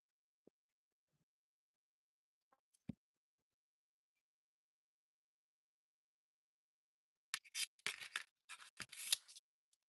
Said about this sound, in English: I want to cut the big doily here